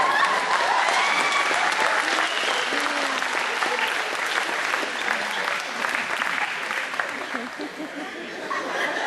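Sustained audience applause from a crowd at an after-prom hypnotist show, steady clapping for the whole span with scattered chuckles and chatter mixed in.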